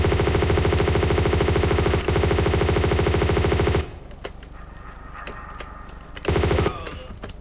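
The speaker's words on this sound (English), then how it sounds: "I think this is a good time for the machine gun." Sustained rapid machine gun fire in Tomb Raider 2, dense and loud for nearly four seconds, then a quieter stretch of scattered impacts and clicks before a second short burst.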